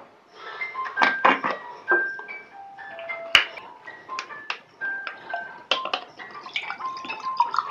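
Drinking water from a freshly opened sealed bottle is poured out for a TDS meter test, giving close, bright drips and gurgling splashes in irregular bursts throughout.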